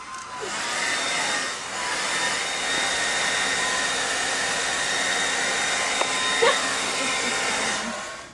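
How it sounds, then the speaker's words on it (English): A hair dryer runs steadily for several seconds, a loud continuous whooshing hum with a faint click near the end. "It's an electromechanic device designed to blow your hair and style it easier."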